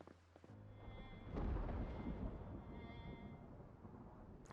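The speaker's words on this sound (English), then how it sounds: "we're hit with another anomalous storm" An anomalous storm in Project Zomboid's Fallout challenge sends a deep rolling thunder rumble swelling up after a brief lull, then trailing off into a sustained low storm roar.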